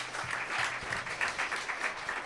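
Steady applause from a small audience at a live podcast recording, many hands clapping continuously for a couple of seconds at a moderate level.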